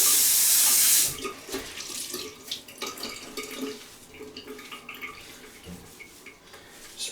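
Tap water runs steadily into a sink while a freshly caulked sink edge is rinsed, starting with a loud, bright gush and then settling into quieter splashing and trickling against the basin, with no talking.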